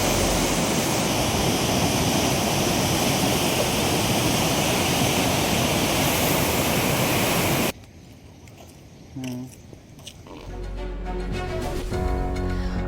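Water discharging from the Chichdoh barrage on the Wainganga river in Chamorshi taluka, Gadchiroli, during heavy rain roars loud and continuous, cuts off abruptly midway, then the rushing returns.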